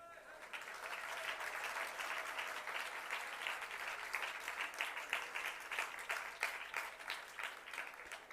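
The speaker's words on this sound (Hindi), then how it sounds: "ताली बज रही है।" Audience applause during a Jain monk's sermon, sustained clapping from a crowd that starts dense and gradually thins into scattered claps, fairly faint in the room.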